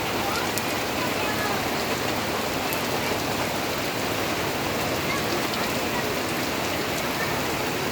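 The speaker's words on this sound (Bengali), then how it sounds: "আমাদের এখানে সকাল সকাল কেমন বৃষ্টি, মুষলধারে বৃষ্টি চলে এসেছি।" Heavy morning monsoon rain pours down in a dense, unbroken roar, steady throughout with no pauses.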